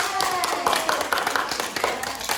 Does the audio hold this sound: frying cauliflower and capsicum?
no